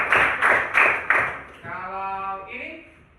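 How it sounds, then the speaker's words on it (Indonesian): A classroom claps for a pupil during a primary-school science lesson: four loud, evenly spaced claps in unison, then children's voices talk and sing. "Tepuk tangan untuk Rizky."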